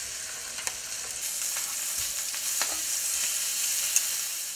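Bratwursts browning in a frying pan give off a continuous close sizzle and crackle, with a few faint shifts and turns, moderately loud and with no one talking.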